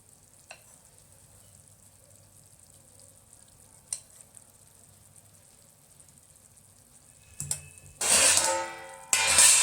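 Green chillies stuffed with gram flour cooking in a pan, Kathiyawadi style: a faint quiet simmer with a couple of light clicks, then a loud, close burst of sizzling near the end.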